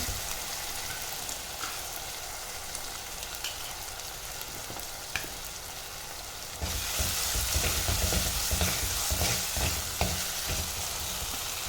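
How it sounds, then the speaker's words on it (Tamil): Steady sizzling from a hot pan as ginger garlic paste is sautéed for country chicken curry, growing louder partway through as it is stirred and frying intensifies, with scraping sounds. "இப்போ இஞ்சி பூண்டு பேஸ்ட் அதில் சேர்த்துக்கிறேன். சேர்த்து நல்லா வதக்கி விட்டுக்கலாம்."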